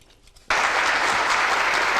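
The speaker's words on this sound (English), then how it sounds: "Please hold your applause until the end of the debate." Loud, dense audience applause erupts suddenly at a live debate after a quiet moment, sustained and steady to the end.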